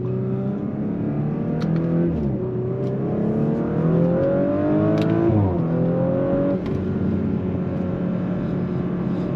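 White Audi RS5 quattro petrol with 450 hp on a road test in dynamic mode, a loud engine note rising through several gears with quick shift drops between pulls, heard from inside without talk.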